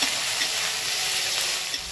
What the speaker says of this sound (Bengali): পেঁয়াজটাকে দেখো খুব ভালো করে ভেজে নিয়েছি